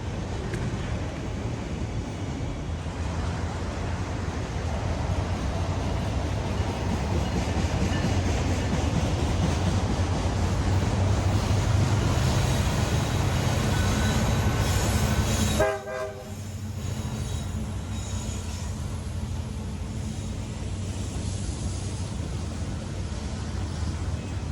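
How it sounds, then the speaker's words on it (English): A westbound Canadian National manifest freight led by SD75I locomotive 5688 rolls past in Montreal, a loud sustained rumble of engines and railcars with a horn sounding, then a brief gap before the wagons continue rumbling steadily. "capture a westbound Canadian National Manifest, with SD75I 5688 leading"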